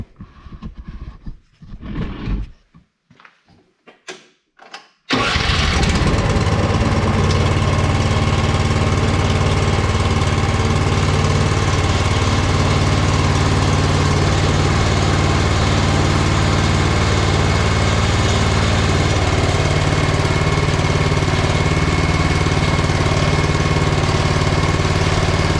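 A Honda HSS928 snowblower engine starts after a few seconds of handling noises, then runs steadily at a loud, close, unbroken roar with a low throbbing rumble.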